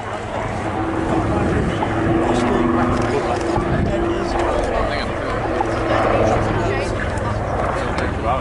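A Royal Navy Wildcat HMA-2 naval helicopter slows into a hover at the Cosford Airshow, its rotor and engine roar steady and distant beneath a commentator speaking over the public address.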